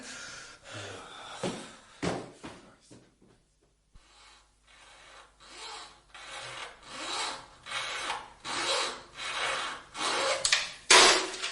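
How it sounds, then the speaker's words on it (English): Back-and-forth strokes of a junior hacksaw cutting in a BBC radio detective drama, a steady rasping rhythm that builds in loudness after a brief pause, heard close and alone. "Slip down to Dale Street and get me a junior hacksaw, will you?"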